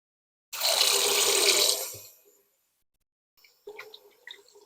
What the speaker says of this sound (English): once you're ready, you can just wash it off.